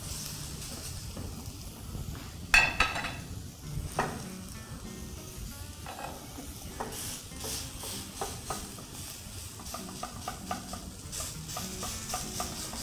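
Meat sizzles in a hot pan while it is stirred and turned, with a spoon scraping and knocking sharply against the pan over a soft, steady frying hiss.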